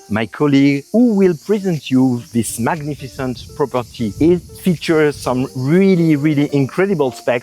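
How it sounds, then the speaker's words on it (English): Crickets chirp steadily and faintly in the background in the Corbières countryside of southern France, while a person talks clearly up close over them. "You can hear the crickets in the background"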